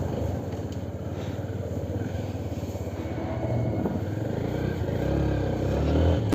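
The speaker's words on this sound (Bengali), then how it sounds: "তো এবার একটু চালিয়ে দেখা যাক বাইকটা।" A TVS Sport 110 motorcycle, fresh from an engine oil change, runs steadily for about six seconds with a low, continuous engine rumble and a slight rise in level toward the end.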